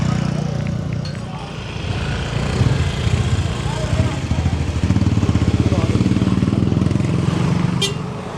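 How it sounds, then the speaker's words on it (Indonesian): Busy public people's harbor in Indonesia with ships docked, motorbike engines idling and revving close by over a dense crowd murmur and bustle, loud and continuous throughout. "Ini suasana di Pelabuhan Rakyat. Pas ada kapal biasanya ramai begini."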